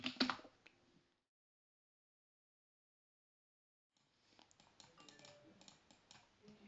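Keys on a computer keyboard tapped to enter a password: a brief burst of close, crisp keystrokes, a silent pause of about three seconds, then a longer run of quieter, irregular clicks.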